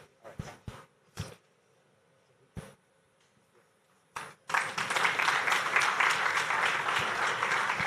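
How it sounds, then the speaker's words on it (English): At a sustainable finance summit, a few scattered, isolated claps at first, then a large audience breaks into full, steady applause that continues to the end. "I think we need to give a better round of applause for Mr. Olu Akamu and Mr. Lawrence Amadi"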